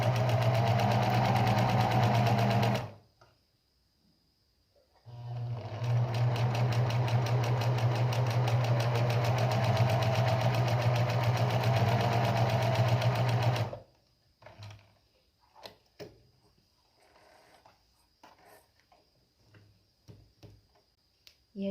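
Sewing machine running a seam around the edge of a lace bridal veil, with backstitching: a steady loud whirring run, a pause, a second long continuous burst, then a few short stops and starts near the end.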